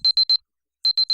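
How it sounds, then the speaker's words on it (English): An alarm clock in a visual novel game rings with sharp, high electronic beeps, three quick ones, a short pause, then three more, crisp and fairly loud against silence. "That loud ringing isn't an ambulance's siren, but my alarm clock."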